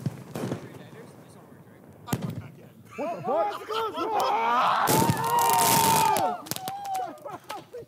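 Sharp booming blasts at the start, then a dense burst of crackling explosions and whistling streaks, with excited voices shouting over the noise.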